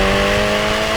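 A Ferrari Portofino engine roars steadily at high revs, loud and close, a sustained droning tone with no voices.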